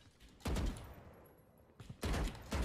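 Valorant gunfire in a competitive match: two loud, close bursts of rapid shots separated by a quieter gap of game ambience.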